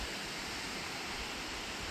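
Steady broadband rush of the Sheep River flowing through a canyon with deep pools and cliffs, heard from a bridge high above, an even continuous wash of water with no voices.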